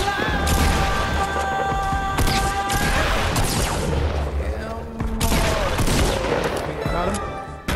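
Rapid Fortnite gunshots crack in bursts, loud and close, mixed with booms and game effects while a player talks over the fire.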